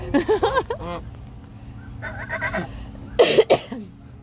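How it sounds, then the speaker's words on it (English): Loud, harsh geese honks come in bursts close by, separated by quieter gaps, with a final cluster of calls near the end. "Sorry for the super loud geese."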